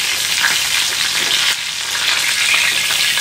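Chicken frying in hot oil, a steady, loud, dense crackling sizzle running unbroken throughout with a brief dip partway, close up and alone.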